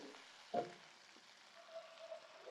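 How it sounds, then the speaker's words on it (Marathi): Butter sizzles softly with ginger-garlic paste and finely chopped garlic in a hot pan, a steady low frying hiss with a brief louder burst as more goes in. "आपण एक चमचा बटर घेतलेला आहे त्यामध्ये बघा आपण एक हे आलं लसूण पेस्ट आणि असा हा बारीक चिरलेला लसूण असा घ्यायचा आहे"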